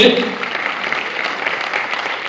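An audience claps steadily for contestants at a ladies' pageant at the Pune Festival, a dense continuous patter of applause.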